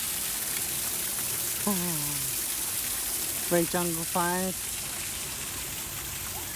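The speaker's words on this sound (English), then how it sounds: "We've gone to a waterfall." A waterfall at San Diego Zoo pours with a steady, broad rushing hiss, with a few short bird-like chirps and a brief spoken remark over it.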